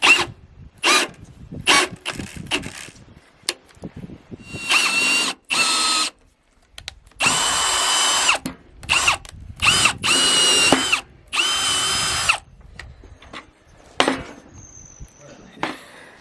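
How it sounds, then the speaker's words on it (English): A power drill fitted with large boring bits cuts big holes in logs for log stairs. Repeated loud, close bursts of whining drilling are separated by short quiet gaps. "These kind of bits were made to be drilling, big holes like this."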